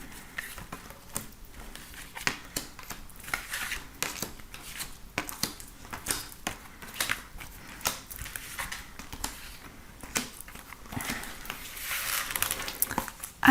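Tarot cards are shuffled and drawn for a daily reading, giving soft irregular riffles, flicks and papery slides at close range, with no talking.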